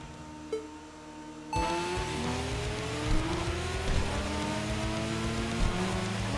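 A tuned Honda Civic Type R accelerates hard on a highway in the video game Tokyo Xtreme Racer, its engine note climbing through several gear changes, loud and steady with no talking.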